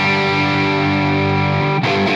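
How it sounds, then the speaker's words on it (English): A 1965 Gibson 335 electric guitar, volume on 10 through a boost pedal, rings out a loud, heavily overdriven sustained chord that holds steadily, then a fresh strum near the end; no talking. "So I have it on 10, got the boost pedal on, so it's pretty gainy."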